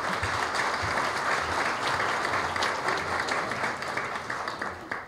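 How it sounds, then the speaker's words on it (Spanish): A seated audience at the formal opening of an international seminar claps steadily, a sustained, even roll of applause that tapers slightly near the end. "Un aplauso, por favor."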